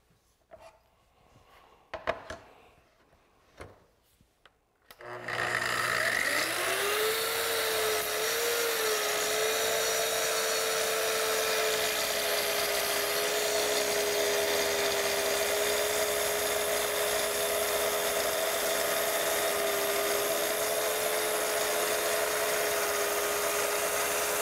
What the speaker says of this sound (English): Now, I'm ready to trim off this edge.